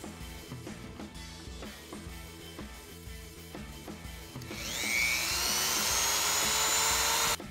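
A rotary cutting tool whines up to a loud high-pitched grind as it cuts through the shaft of a Watersnake trolling motor, following a stretch of quieter tapping and handling noise.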